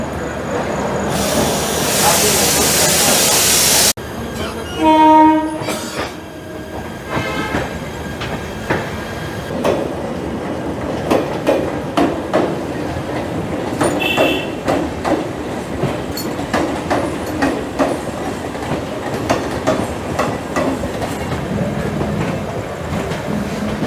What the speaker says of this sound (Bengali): এই দেখতে পাচ্ছেন ট্রেনের ডিপার্চার হচ্ছে